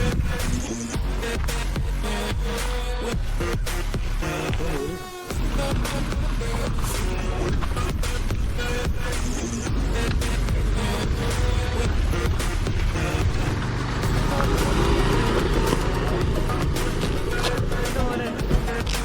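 A KTM Duke 390 fitted with a Powertronic unit rides along a road, its engine and wind roar loud and continuous for the whole stretch, with a brief dip after about five seconds before the roar resumes.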